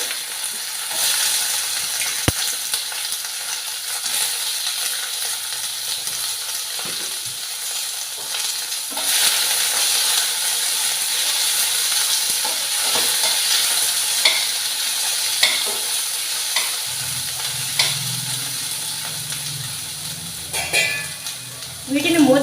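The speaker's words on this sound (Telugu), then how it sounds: "ఇప్పుడు ఈ దొండకాయ ముక్కలు అనమాట ఇందులో వేసేసి వేయించుకోవాలి" Ivy gourd pieces fry in hot oil in a kadai, with a continuous loud sizzle broken by repeated spatula scrapes and clinks against the pan as they are stirred, plus a brief murmur of talk near the end.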